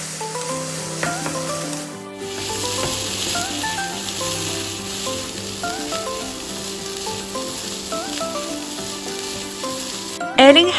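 Leftover jasmine rice is stir-fried with light soy sauce for salt and pepper shrimp fried rice, giving a steady, moderate sizzle and soft stirring under continuous background music, ending with a louder clatter.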